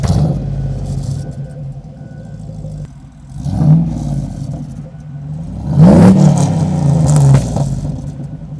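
Chevy LS3 V8 swapped into a Land Rover Defender turns over and fires, settling into a lumpy idle before two sharp revs that rise and fall, heard close and loud with no talking.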